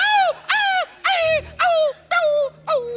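A voice mimics a dog yelping, as if a goat had fallen on it: six sharp, whiny cries in a steady rhythm, close and loud, with a faint low hum underneath.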